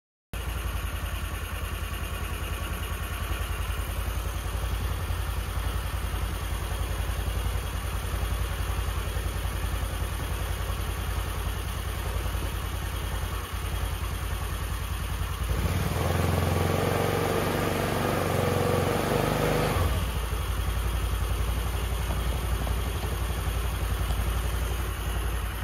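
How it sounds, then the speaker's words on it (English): Cheap Chinese scooter engine running steadily after a CDI replacement, a continuous close buzzing drone that swells louder partway through as if revved, then settles back to idle. "This scooter runs."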